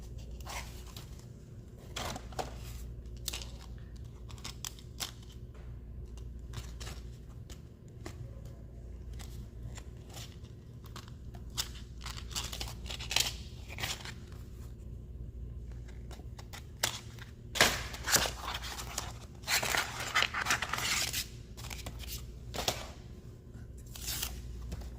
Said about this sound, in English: let's find where the die is and we'll cut it out.